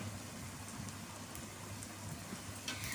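Onions with turmeric fry in a pan, giving a quiet, steady crackling sizzle that sounds like soft rain, with no voices.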